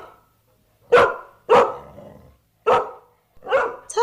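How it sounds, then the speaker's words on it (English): A dog barks several times in separate sharp bursts with short pauses between them, loud and close, with no voices over it. "Those are dogs."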